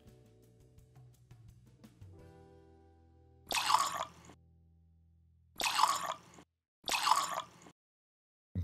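Liquid splashing and dripping in the Espresso Tycoon video game, three short bursts of bright spattering sound separated by silence after a faint low hum.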